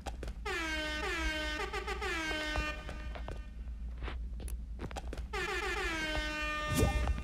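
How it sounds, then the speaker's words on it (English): Fortnite item shop air horn blaring in two long bursts with a gap between, loud, harmonic honks starting high and settling, alone without talk. "And then we have the air horn."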